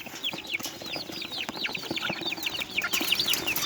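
A fighting rooster clucks in quick, busy bursts close by, with other bird chatter and ambient noise underneath.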